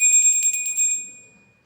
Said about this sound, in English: A mini altar bell, so this is just like spells and stuff